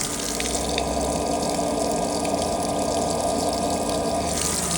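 Steady, loud rush of water spilling out of an aquarium overflow box and splattering onto a driveway, constant and close throughout with no voices.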